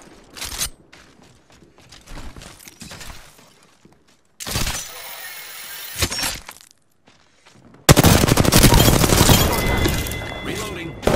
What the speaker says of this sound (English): The enemies are shooting.